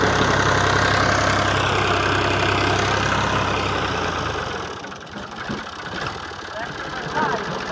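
A loud tractor engine idling with a low, steady rumble that fades somewhat partway through, while people talk nearby.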